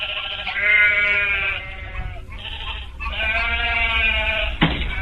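Sheep bleating loudly and close, two long wavering calls with a short gap between them, over a low background rumble.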